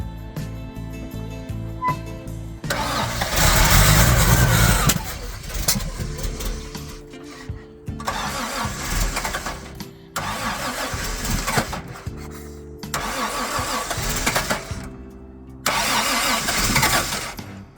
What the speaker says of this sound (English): Let's try to start it.